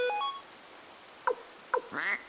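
Duck quack sound effect from Suikoden I, a short electronic tone then two brief nasal quacks and a longer final quack, clear and close with no talking.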